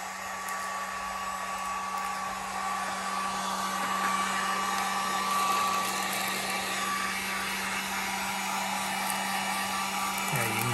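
A heat gun on a low setting shrinks wrap onto a glass mug, giving a steady, even blowing hum with a constant tone throughout, fairly quiet and with no talk.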